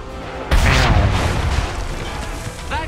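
A cannon in Assassin's Creed III fires one deep, loud boom whose heavy rumble rolls on and slowly fades over the next couple of seconds.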